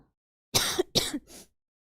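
Three quick coughs in a row, close and sharp, the last one weaker, with silence before and after.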